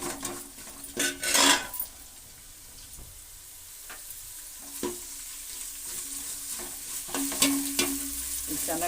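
Onions and okra greens frying in oil in a pan, crackling sizzle with spoon scrapes and metallic clinks against the pan at uneven intervals, close up and without speech.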